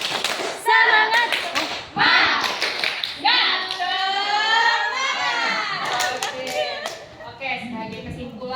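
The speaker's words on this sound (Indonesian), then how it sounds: "Oke, tepuk semangat." Students in a high school classroom career guidance session do a rhythmic spirit clap, sharp hand claps in quick patterned bursts with children shouting and voices over them, loud and close throughout.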